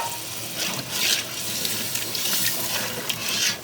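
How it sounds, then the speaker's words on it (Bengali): Water gushes steadily and fairly close into a pot of braised chicken and potato curry, a continuous splashing pour without voices. "এবার সেদ্ধ করার জন্য আমরা পানি দিয়ে দেব।"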